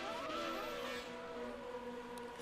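Race cars in a racing video game set at the Canadian Grand Prix roar as the race begins, several engines revving and rising in pitch together in a loud, layered whine.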